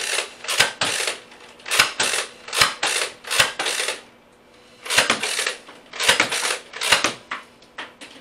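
A Nerf ZombieStrike Scravenger blaster set to slam-fire is pumped and fired over and over, making loud, sharp plastic clack-and-snap bursts, often in quick pairs, with a short pause midway.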